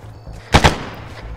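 Two quick, sharp gunshots ring out close together against a low background hum, loud and brief, amid a tense video game firefight.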